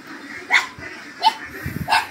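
A dog on a duck farm gives three separate sharp barks about a second apart, fairly close, with some low shuffling noise between them.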